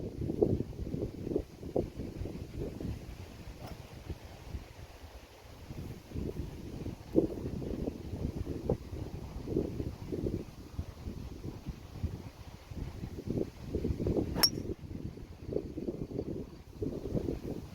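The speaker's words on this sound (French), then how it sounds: "Et ça souffle fort." Steady gusting wind buffets the microphone on a golf course in Quetigny in broad low rumbling surges, continuous and fairly loud throughout, with no voices.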